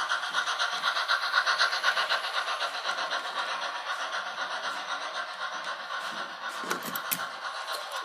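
A brand-new battery-powered toy model train runs steadily and close by, giving a continuous whirring hiss with a faint rhythmic clatter and a few brighter clicks near the end, with no voices.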